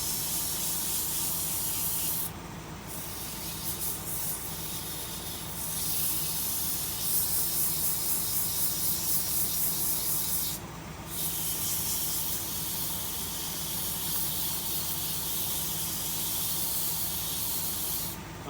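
Continuous abrasive sanding of a painted vase, a steady loud hissing rasp that pauses briefly twice, then resumes in even strokes.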